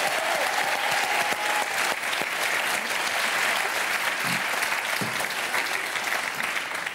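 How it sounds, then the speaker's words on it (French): A live audience at a French stage event applauds loudly and continuously from start to finish, a dense close wash of clapping with no break. "J'aimerais qu'on l'applaudisse très fort"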